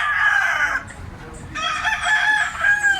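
A white, yellow-legged bullstag rooster of Lemon 84 bloodline crows loudly and close by, one long harsh call with a brief break in the middle, then trailing off.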